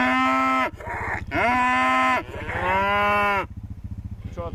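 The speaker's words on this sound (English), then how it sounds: "That's Sam's favourite cow." A cow on a farm gives three loud, close, drawn-out moos with brief pauses between them, over a steady low rumble.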